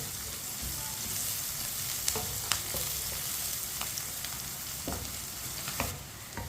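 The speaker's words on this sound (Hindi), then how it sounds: "लहसुन और प्याज को हल्का सा ब्राउन कर लेंगे।" Garlic and onion fry over medium heat in a pan, sizzling steadily and closely throughout, with a few sharp clicks and scrapes as they are stirred.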